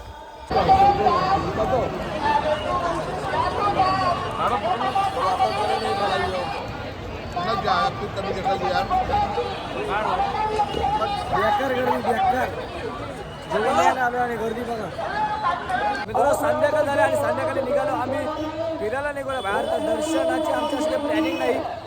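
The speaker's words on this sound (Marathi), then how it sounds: "त्यांच्या समोर तीन नंबर गेट आहे तिथे भरपूर गर्दी" Dense crowd chatter and babble from a large crowd queuing at gate three in Ayodhya, steady and close throughout, with overlapping voices and footsteps.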